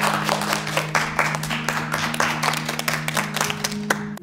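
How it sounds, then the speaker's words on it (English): A classroom group claps in a steady, moderately loud round of applause that plays back with a faint underlying hum, and it stops abruptly at the end. "Let's all give them a round of applause."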